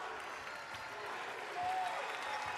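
Big Ten tournament women's college basketball crowd, USC against Indiana, cheering and applauding steadily as the game ends, a dense continuous roar that swells slightly louder toward the end.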